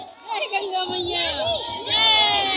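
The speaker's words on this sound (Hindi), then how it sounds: "बहुत ताबड़तोड़ भीड़ है" A large crowd of pilgrims gathers at the Ganga in Prayagraj, a dense chatter of voices with children calling and shouting, fairly close and continuous throughout.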